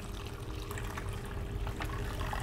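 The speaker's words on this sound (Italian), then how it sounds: "vado a versare lentamente un po' per volta" Water poured slowly, a little at a time, through a funnel and filter into a beaker while sieving beach sand for microplastics, a steady soft trickle heard alone for a few seconds.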